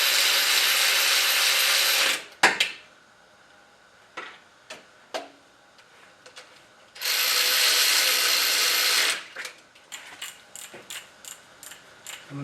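Ratchet tightening the oil filter housing bolts on a Toyota Prius during a head gasket job: two long, loud bursts of rapid ratchet clicking, each followed by scattered sharp single clicks and taps nearby.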